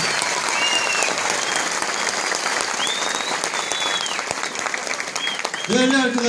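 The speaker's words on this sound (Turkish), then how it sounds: "Kendilerini alkışlıyoruz." A crowd at a political rally in Konya applauds steadily: dense, continuous clapping throughout, with occasional whistles rising above it and a brief louder burst near the end.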